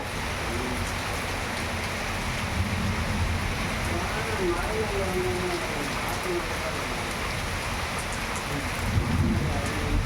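Rain falling during a village festival, a steady dense hiss of rainfall filling the background, fairly loud and constant, with faint voices and some low rumbling mixed in.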